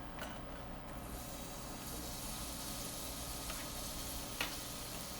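Onions frying in a thin layer of oil in a pan give a faint, steady sizzle with soft scraping from stirring, quiet and uninterrupted.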